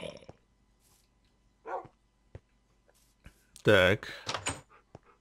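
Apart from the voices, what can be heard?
dog in Minecraft video game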